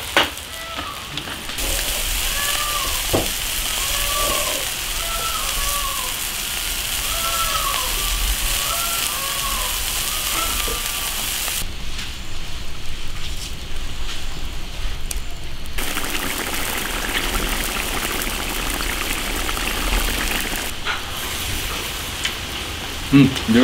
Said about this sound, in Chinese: 加点糖，不用加盐，先把牛肉煮熟。